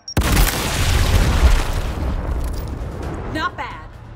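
A frag grenade detonates in the turn-based tactics game Gears Tactics with a loud, close boom, then a long rumbling tail that slowly fades, with a brief voice near the end.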